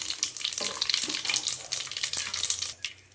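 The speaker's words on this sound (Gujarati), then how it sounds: "પછી એમાં નાખીશું તલ. તલને થોડી વાર શેકાવા દઈશું." Sesame seeds roast in hot oil with crackling mustard seeds and curry leaves for Gujarati patra, giving a steady, close hiss of frying with fine popping crackles throughout.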